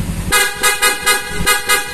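A PIA horn fitted to a Yamaha Sniper 155 motorcycle gives a string of loud, close, bright honks in a quick rhythm of about six short blasts.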